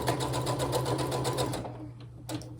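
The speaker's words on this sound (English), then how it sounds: "I started playing on my sewing machine" A sewing machine runs with a fast, steady mechanical whir, stops after about a second and a half, then briefly starts again near the end.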